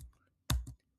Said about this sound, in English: But I'm going to type it because I'm using my Chromebook.